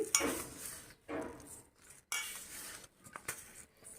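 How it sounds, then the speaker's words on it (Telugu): Sesame seeds scooped and poured with a rice cooker measuring cup, giving soft dry rustling pours and light clinks of the cup in several short bursts, close and quiet. "ఆ కప్పు తోటి నేను ఎన్ని కప్స్ ఉందో చూస్తున్నానండి"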